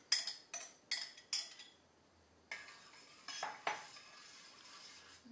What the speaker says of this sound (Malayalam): ഈ എടുത്തിരിക്കുന്ന തേങ്ങ ഇതിലോട്ട് ആഡ് ചെയ്യാം ഇനി നമുക്ക് ഇത് മിക്സ് ചെയ്തു കൊടുക്കാം